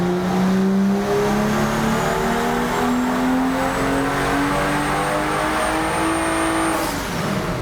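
A tuned BMW F30 on a dyno revs hard in a single loud, sustained pull, its engine note climbing steadily in pitch before cutting off near the end.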